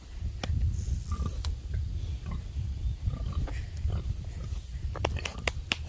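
A pig grunts and snuffles repeatedly while eating breakfast on a farm during breeding season, with irregular close oinks and chewing noises over steady outdoor background.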